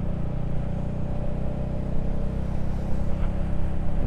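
A Royal Enfield Hunter 350 motorcycle with a 16-tooth sprocket upgrade rides along in second gear at about 35 mph, its single-cylinder engine giving a steady, close, loud thrumming drone with no voices.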